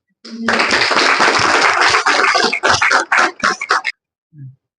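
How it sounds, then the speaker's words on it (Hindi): An audience claps at a company gathering in honour of a long-serving staff member, with dense applause that thins into a few scattered claps before stopping. "ये इनके लिए तो डबल तालियां बनती हैं"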